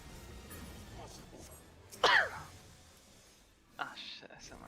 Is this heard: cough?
yes